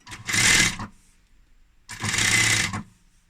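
A sewing machine runs in two short, even bursts of fast mechanical whirring as it stitches piping onto a cushion cover. A brief quiet pause separates the bursts, and the sound is close and clear.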